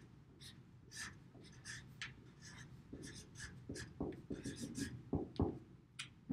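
A marker squeaks and scratches across a board in short strokes at close range, with a faint voice and breathing underneath.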